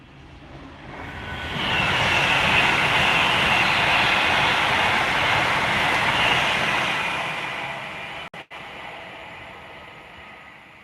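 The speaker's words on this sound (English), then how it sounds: "it is an Avanti West Coast Class 390 Pendolino. It's approaching right now." An Avanti West Coast Class 390 Pendolino electric train rushes past, a broad roar swelling within a couple of seconds, holding loud for several seconds, then fading as it moves away.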